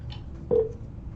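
A phone dialing tone sounds once, a short clear beep standing out from a low background rumble, close and with no talk over it.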